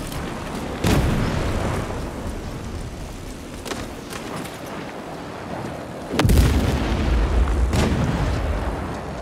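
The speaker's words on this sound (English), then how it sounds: "Take cover, grenade!" A grenade blast in the war shooter World War 3 booms loud and close, one heavy explosion near the start and a bigger one later, with scattered battlefield rumble between them.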